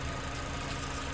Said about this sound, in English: I love to hear the Mazda.